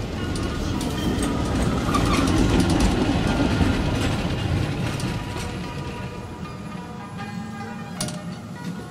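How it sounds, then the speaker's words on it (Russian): Continuous loud rattling and clanking of a double-decker tram in motion on the streets of Hong Kong, a dense mechanical clatter that persists with no pauses. "Сегодня мы продолжим кататься на двухэтажном трамвае по улицам"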